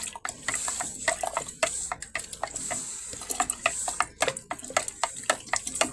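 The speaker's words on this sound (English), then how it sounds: "You just need to stir it." A spoon stirring honey into homemade Sprite, clinking crisply against the glass in quick, uneven taps over a soft liquid swirl, close and clear, with no talk.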